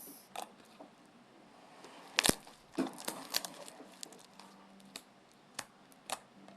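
Crunchy fluffy slime being squeezed by hand, giving faint scattered crackles and sharp snapping pops at irregular intervals over a quiet background.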